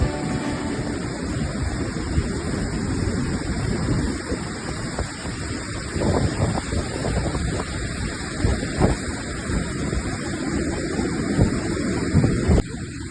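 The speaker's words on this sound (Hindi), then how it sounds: "बहते पानी की आवाज़ और ठंडी हवा सफ़र को यादगार बना देती है" River flowing close beside a mountain trail near Gondar village on the way to Madhyamaheshwar, a continuous broad rushing hiss mixed with gusting wind buffeting the microphone.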